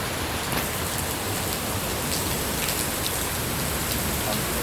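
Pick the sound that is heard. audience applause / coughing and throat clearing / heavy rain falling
heavy rain falling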